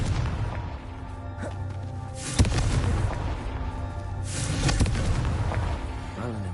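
A Confringo blasting curse from the Hogwarts Legacy video game bursts in two heavy booming explosions about two seconds apart, each rolling into a dense crackling rumble over a steady game score, with a voice sounding in between.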